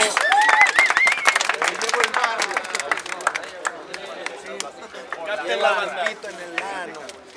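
A crowd claps and cheers at a Spanish-language freestyle rap battle, a dense burst of hand claps strongest at the start that keeps going under loud overlapping voices.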